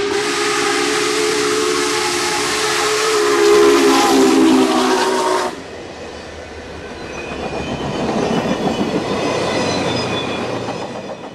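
Union Pacific 844 steam locomotive on the Chester Subdivision in the Mississippi Valley, its loud steam whistle blowing for about five seconds before giving way to the rushing hiss and rumble of the passing train.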